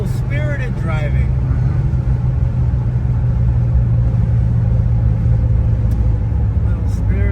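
A 1971 Chevrolet Corvette survivor car's engine drones in a steady, loud low rumble while being driven spiritedly, heard from inside the cabin with a voice talking briefly over it.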